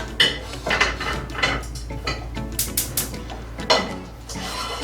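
Clattering metal cookware while a frying pan is set on the stove during preparation of Jamaican brown stew fish: several sharp knocks and scrapes of pans and utensils in an otherwise quiet kitchen.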